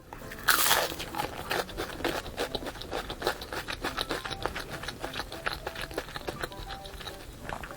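Crunchy menbosha, Korean shrimp toast with a shrimp-ball filling, eaten close up: a sharp loud bite followed by steady rapid crunching and chewing that keeps going without talk.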